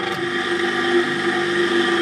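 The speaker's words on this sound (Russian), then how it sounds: "Наш двигатель работает." An electric motor running on 220 V mains power: a loud, steady mechanical hum with a constant whine, sustained evenly for the whole stretch with no voices.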